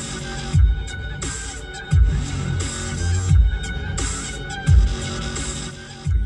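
Music with a heavy, thumping bass beat plays through the Harman Kardon system inside a Tata Tiago car, at moderate volume with regular deep kicks and a steady rhythm, no talking over it.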